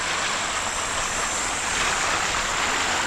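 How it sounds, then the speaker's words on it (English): Waves wash steadily onto a lake shore at a state park campground, a continuous broadband surf rush close by with some wind noise on the microphone and no voices. "listen to those waves coming on shore"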